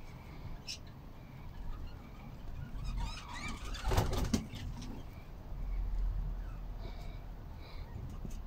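Newly bought pigeons cooing softly near a loft, with low murmuring calls and a few brief sharper sounds mid-way over steady background noise.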